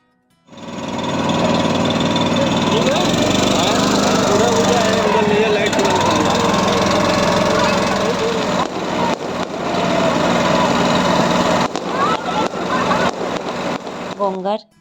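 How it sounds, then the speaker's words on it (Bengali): Motorboat engine on the Ganges in Varanasi during Dev Deepavali, a loud steady buzzing drone that starts as the boat departs and holds throughout, with crowd noise and voices around it. "ফাইনালি বোটটা ছাড়লো।"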